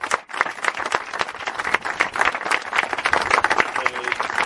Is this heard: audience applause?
yes